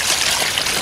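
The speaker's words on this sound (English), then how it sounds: "Then, just gonna add a little water." Water pours steadily into rapid-set mortar mix in a short rushing trickle, close by, with no other sounds.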